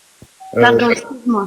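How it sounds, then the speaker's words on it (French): A doorbell chimes briefly indoors, a sustained electronic tone, then is quickly followed by a person speaking close up. "C'était ma sonnette."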